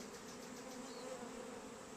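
Honey bees buzz around hive frames, a steady, faint, low drone with no break and no talking.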